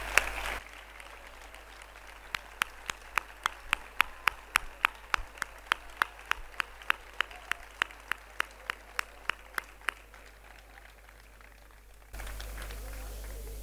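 A graduation ceremony audience claps in steady unison, with sharp, evenly spaced beats over about ten seconds in a large room. The clapping then stops, leaving only a faint background hum.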